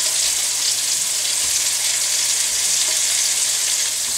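Tofu frying in a hot pan gives a steady, loud, even sizzle with faint stirring underneath, continuous and close with no voices.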